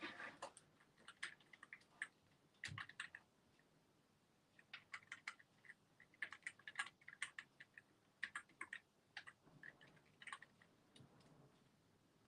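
Fingers typing on a computer keyboard in quick irregular bursts of soft clicks with short pauses between, close and fairly quiet.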